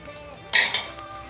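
Leftover egg batter for a bread-and-egg omelette sandwich hits a hot pan with a short, bright hiss that swells twice and then settles to a faint sizzle, close and clear with no talking.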